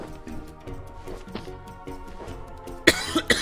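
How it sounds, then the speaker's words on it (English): A few sharp, loud congested coughs burst out near the end after a stretch of quieter background sound, close to the microphone, during Owlboy gameplay. "excuse my cough"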